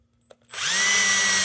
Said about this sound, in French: On prend notre drill.